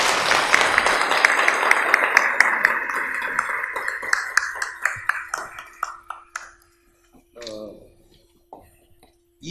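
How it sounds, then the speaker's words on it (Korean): Church congregation applauding to welcome a visiting evangelism speaker, a lively round of clapping that thins into a few distinct individual claps before brief talk, with a faint ringing tone underneath. "박수로 환영합니다."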